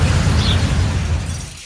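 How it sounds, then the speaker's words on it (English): A sound effect of a car striking a pedestrian at 40 mph: one loud, dense, booming crash-like roar that fills the whole short span and fades slightly at the end, with no voices. "This is the sound of a child being hit by a car at 40 miles an hour."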